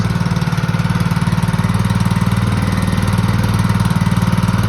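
Small outboard boat motor running steadily after starting on a single pull, a loud, close, continuous low throbbing chug with a fast regular beat and no speech.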